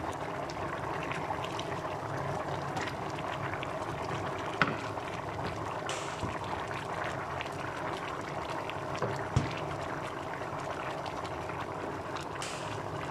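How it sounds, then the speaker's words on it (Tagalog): Water for beef bukari, an Arabic rice dish, bubbles and simmers continuously in a pot close by, a steady churning with a few small clinks. "kumukulo na yung tubig."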